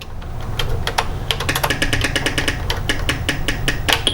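Keys pressed rapidly on a Tandy Color Computer 3 keyboard while playing a game, a close, irregular stream of sharp clicks and clacks with no talking.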